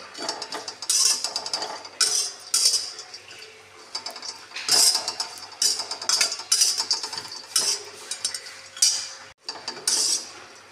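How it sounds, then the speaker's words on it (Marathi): Grated coconut dry-roasting in a pan over a low flame, heard as repeated bursts of scraping and light clinking from a spoon stirring against the metal, close up with short pauses between strokes and no voices. "आता बारीक गॅसवरती खोबरं भाजून घेऊया. बारीक गॅसवरती एकदम चांगलं भाजून घ्यायचं."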